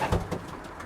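A racing pigeon, a Van Roy and John Ardeen cross, gives a short, low throaty coo, close and soft, lasting under a second.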